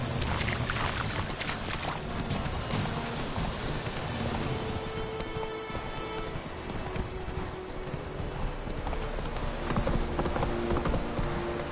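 Roach, the horse in the video game Witcher 3, trots along with steady, rhythmic clip-clop hoofbeats over a busy game soundscape of ambient noise and faint water-like sounds.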